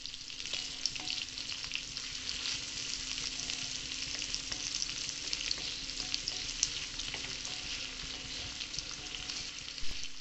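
Onion roasting in oil in a pan for a crab masala, a steady close sizzle and hiss running throughout with a few faint scrapes and clicks, no voices.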